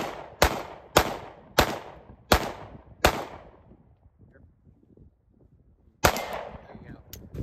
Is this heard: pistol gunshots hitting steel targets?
yes